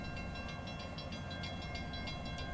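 A steam locomotive train, Nickel Plate Road 765, rumbles steadily nearby with a faint rhythmic clicking of wheels over rail joints, low and continuous, no voices.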